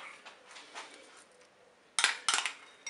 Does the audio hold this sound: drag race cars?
no